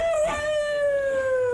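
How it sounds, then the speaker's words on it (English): A seven-week-old Old English sheepdog puppy gives one sustained, close howl that slowly falls in pitch, clear and steady with no talking over it. "You'll have to excuse the dog, listeners, but he doesn't know we're on the radio."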